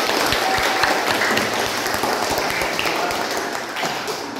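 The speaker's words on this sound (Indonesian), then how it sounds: "Beri tepuk tangan untuk kita semua." A classroom or school assembly audience claps together, a dense steady patter of hands filling the room at moderate loudness and holding on without pause before trailing slightly near the end.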